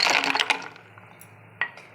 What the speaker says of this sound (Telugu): ఇప్పుడు ఇందులోకి ఐస్ క్యూబ్స్ యాడ్ చేయాలండి